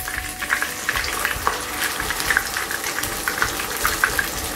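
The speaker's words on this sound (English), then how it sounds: "So I'll go ahead and the okra to the oil." Okra sizzles and crackles steadily as it fries in hot oil, a dense continuous hiss with small pops, close and alone.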